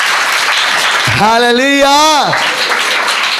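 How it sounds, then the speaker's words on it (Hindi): A church congregation claps loudly and steadily, a continuous wash of applause heard under a single drawn-out shouted exclamation from a preacher. "जोर से ताली बजाएंगे।"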